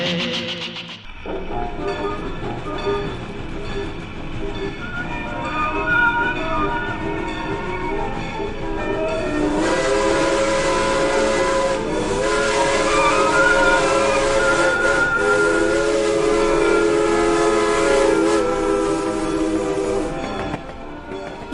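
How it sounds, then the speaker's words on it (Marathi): A train whistle blows over rail noise, long sustained tonal blasts rising in strength midway, with steady wagon rumble and faint clatter underneath, loud and close. "सीटी बजा रही है, गाड़ी बुला रही है, सीटी बजा रही है."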